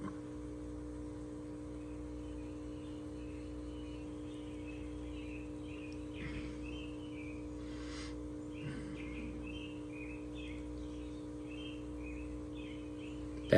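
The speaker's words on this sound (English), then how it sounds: "You got the door open, you can hear the birds chirping." Birds chirp faintly outside an open door, scattered small calls running throughout over the steady low hum of a nearby fish tank pump, with no talking.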